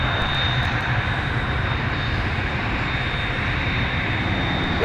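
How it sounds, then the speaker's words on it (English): A Delta Airbus A321 arriving from Atlanta lands at a snowy Minneapolis–St. Paul airport in winter, its engines giving a steady, loud, broadband roar with a thin high whine running throughout, close by and unbroken. "That arrival you're watching now as it lands is from Delta's World Headquarters down in Atlanta."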